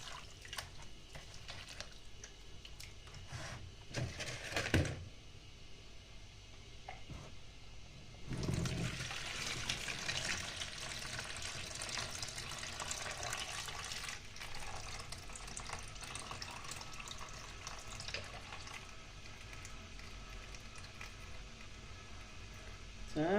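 Water runs and splashes quietly as couscous is rinsed in a bowl by hand, a steady low wash with a louder pour partway through.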